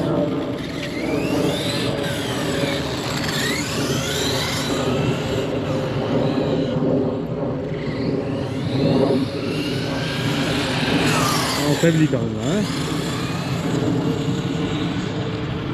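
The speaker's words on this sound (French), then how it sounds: "Mais ouais, on entend clairement le moteur" An R Snake V16 Pro RC car motor runs at full speed outdoors, a loud whining electric drone with rising and falling pitch sweeps, close and continuous, with a brief spoken remark over it.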